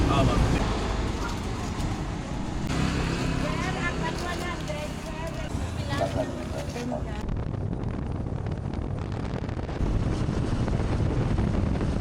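Strong wind buffets the microphone in a constant, loud roar on a boat crossing from Iloilo to Guimaras, Philippines, with an engine rumbling underneath.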